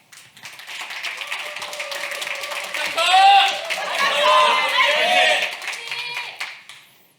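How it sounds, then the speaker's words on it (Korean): Audience applause greets the first presenter at a public-sector HRD contest final, building into a sustained wash of clapping with crowd chatter and a voice over it, peaking midway before tapering off. "큰 박수로 맞아주시기 바랍니다."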